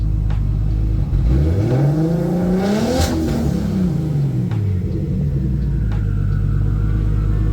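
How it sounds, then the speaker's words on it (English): A Nissan R32 GT-R engine running on an EMU Black ECU with ignition-controlled idle and no idle control valve gives a loud, steady, close-up rumble, with one brief rev climbing and falling back in the middle. "I've got myself the ignition idle because this does not have an actual idle control valve"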